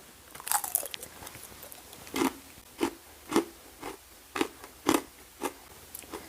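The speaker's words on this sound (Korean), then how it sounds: "바삭바삭 과자처럼 아주 맛있게 먹을 수가 있겠습니다" Crisp bites and crunches of crunchy homemade apple jujube chips, about nine sharp snaps in an irregular rhythm, close and clear with no talking.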